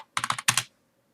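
Several quick keystrokes on a computer keyboard while an IP address is entered, a rapid burst of four taps, a short pause, then two more clicks, close and crisp with silence after.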